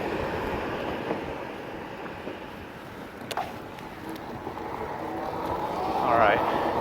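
A Rad Power RadRover electric fat-tire bike rides in pedal assist level 3, a steady rushing road and wind rumble with a brief rising whine near the end.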